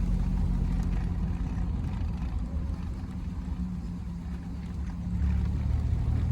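A Triumph Roadster engine burbles steadily in top gear on a test drive, a continuous low rumble with rushing road and wind noise and no talk.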